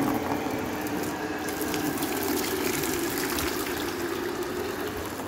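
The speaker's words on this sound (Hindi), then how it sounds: "गर्म पानी का धारा मैं दूंगी" A steady stream of hot water is poured to rinse feet, giving a continuous close gushing splash at an even level throughout. No speech.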